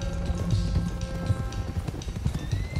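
Horse hooves clip-clopping in Red Dead Redemption 2, several horses trotting in an irregular, close rhythm under faint background tones, no talk.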